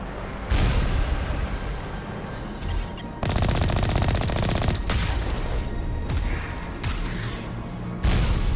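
Turret fire in the video game Mass Effect: loud, sustained bursts of rapid automatic shots that crackle on and off with short gaps across the clip, close and dominant with no talking.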